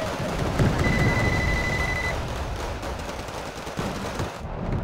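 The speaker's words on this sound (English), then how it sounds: "And there goes the bomber." A bomber attack strikes tanks in a strategy video game, producing a dense, continuous rumble of explosions and rattling gunfire that holds steady and loud throughout, with a brief thin whine partway through.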